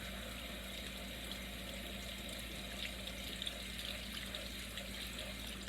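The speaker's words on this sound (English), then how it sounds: "My last group of seeds I have to rinse are my alfalfa seeds." Alfalfa sprouting seeds rinsed under a running kitchen tap: a steady, close, even hiss of flowing water that continues without a break, with faint spattering and no talking.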